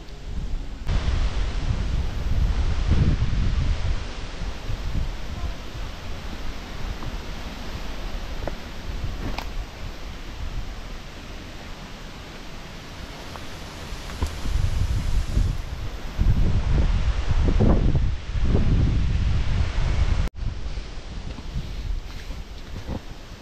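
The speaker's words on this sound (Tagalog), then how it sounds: "Mahangin siya kasi mapuno siya kabilaan." Wind rushes through the leaves of guava trees in Pililia, Rizal, in a steady rustling wash, swelling into stronger gusts now and then, with no voices.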